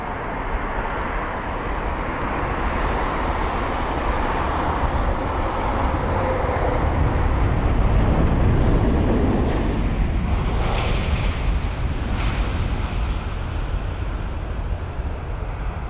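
Aircraft roar at London Heathrow airport, a steady loud broadband rumble with wind noise that swells toward the middle and eases slightly, with no talking.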